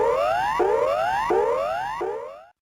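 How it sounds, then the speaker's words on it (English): Standard emergency warning signal tone through a landline phone: a loud rising whooping sweep that repeats four times in quick succession, each glide climbing then snapping back down, alone without voices. "you may hear the standard emergency warning signal"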